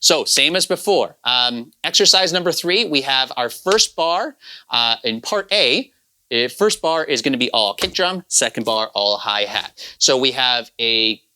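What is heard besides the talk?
No distinct noise like a dog, phone or traffic.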